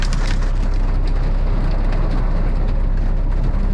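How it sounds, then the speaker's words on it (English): Dense, steady clatter of hail pelting hard surfaces outdoors in sunshine, a continuous loud patter with sharp pings and no voices. "Here we have it, we are getting the hail"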